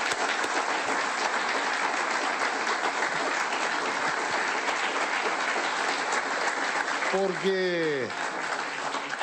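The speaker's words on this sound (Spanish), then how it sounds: "Un aplauso para todos ellos en todo el país." Dense, steady crowd applause at a political speech event fills the whole stretch, with a voice speaking briefly over it near the end.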